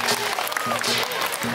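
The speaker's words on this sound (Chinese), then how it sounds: "我们掌声越热烈，他们的表演就更精彩" Brief burst of crowd clapping at an elementary school sports day, moderately loud over a low pulsing music bed, lasting under two seconds.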